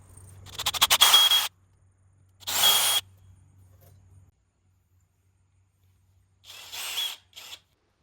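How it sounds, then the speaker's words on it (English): Two bursts of high-pitched drilling of starter holes into wood, the second shorter, followed after a pause by another brief whirring burst, close and fairly loud. "I like to drill starter holes so that I'm more precise with the Forstner bit."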